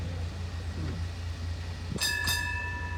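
A low, steady rumble of a red tour train runs throughout, broken near the end by a short two-part whistle as the train starts moving off.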